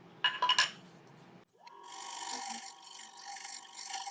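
A skew chisel cuts into a spinning elm bowl on a wood lathe, giving a short raspy scrape followed by a steadier whirring, rubbing cut, faint and close with no talking.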